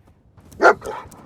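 Dogmeat, the dog companion in Fallout 4, gives one sharp bark followed by a softer, shorter yip, close and loud over a quiet game background.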